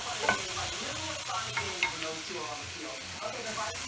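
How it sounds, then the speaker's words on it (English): Sliced mushrooms sizzle softly in a pan while being stirred and cooking down for a sausage pasta sauce. A spoon scrapes the pan now and then over a steady, faint hiss of frying. "Give them a good stir. And let them cook down."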